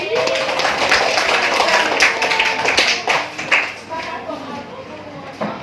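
Classroom students clap for two classmates, a dense burst of hand claps and taps that thins out after a few seconds while voices talk over it.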